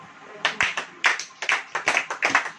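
Congregation at a church sermon clapping hands in scattered bursts of claps, fairly close, with no talking.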